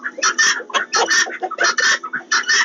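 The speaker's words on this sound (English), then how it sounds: "Guineas are just super loud right now." Guinea fowl on a backyard chicken-keeping homestead call loudly and close, in repeated harsh, rhythmic bursts of raspy cackling with short gaps between them.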